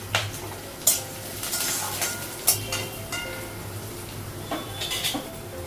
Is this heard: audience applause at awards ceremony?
no